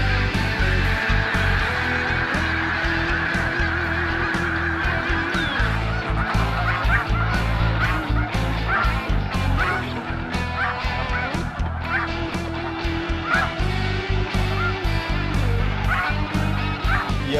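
Snow geese honk continuously from a dense flock at a feeding field near Montmagny, a loud overlapping chorus of calls that fills the whole stretch without pause.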